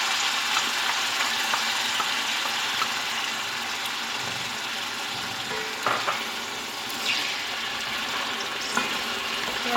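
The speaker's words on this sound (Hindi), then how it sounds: "चिकन अच्छी तरह से फ्राई हो गया है। इसमें लहसुन अदरक डाल दूंगी।" Chicken sizzles steadily in hot oil as garlic and ginger go into the pan, a dense, even crackle with occasional small pops and a faint stirring scrape, no voices.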